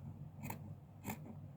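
Scissors cut through blouse fabric at a sewing table, giving two short crisp snips about half a second apart over a steady low hum.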